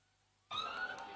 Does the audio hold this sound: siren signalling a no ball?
yes